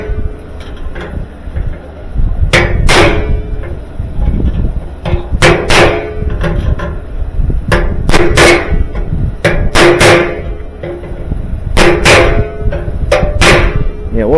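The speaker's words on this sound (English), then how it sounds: "take it over to the anvil and just hit flat on those things, and that kind of squeezes the hole" A hammer striking a punch on an anvil while fixing a dryer ball hub, sharp metallic blows in irregular clusters over a loud steady background hum.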